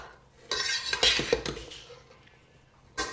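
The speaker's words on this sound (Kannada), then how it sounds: "ಮಿಕ್ಸಿಂಗ್ ಮಾಡ್ತಾ ಇದ್ದೀನಿ" A utensil scrapes and clinks against a pan in a few quick bursts of stirring, close by, with quieter gaps between strokes.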